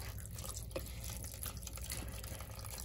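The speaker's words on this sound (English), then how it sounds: "the water is so slow" Tap water runs slowly into a sink during acrylic yarn dip dyeing, a quiet continuous trickle with faint splashes and drips, steady and close, with no talking.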